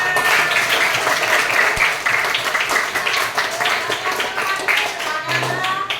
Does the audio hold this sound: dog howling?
no